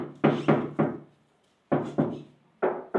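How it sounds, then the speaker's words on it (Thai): Knuckles rap the steel casing of a 2024 Carrier Copper 8 air conditioner unit, making close, hollow knocks: three quick raps, a pause, then two pairs of knocks. "ตัวนี้ เหล็ก ข็งแรงทนทาน ฟังเสียง"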